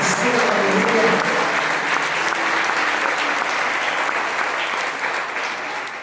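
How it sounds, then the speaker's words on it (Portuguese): A church congregation claps for Jesus during a sermon, a dense, sustained wash of applause that fills the room, with some voices mixed in beneath it before it slowly starts to thin. "Bata palmas aí para Jesus."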